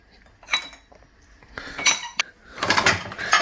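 Clean plates and cutlery clink and clatter as they are handled from a dishwasher, with sharp metallic chinks coming in bursts close by and growing busier toward the end.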